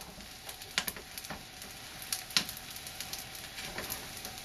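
Kimchi fried rice with egg sizzles and crackles softly in a pan, giving a steady bed of frying hiss broken by small irregular pops, close and quiet with no voices.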